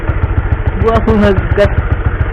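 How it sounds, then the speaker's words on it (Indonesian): A Honda CB150R motorcycle engine idles with a steady low putter, briefly revved in a few quick blips, close to the microphone. "Gua mau ngegas gitu."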